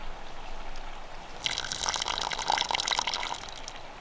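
Water poured into isopod culture containers in a bioactive crested gecko enclosure setup, a bright splashing pour starting partway in and running steadily for a few seconds over a quiet background.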